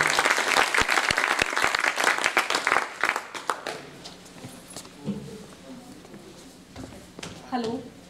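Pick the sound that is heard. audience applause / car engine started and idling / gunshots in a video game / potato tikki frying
audience applause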